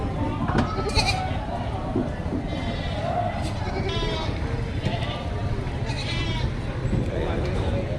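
Goats bleat repeatedly amid a busy, noisy livestock market pen in Padre Garcia while people talk nearby; the bleats come in short bursts, some near, some farther off.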